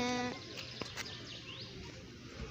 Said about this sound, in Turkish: Şimdi burada da bir koyun var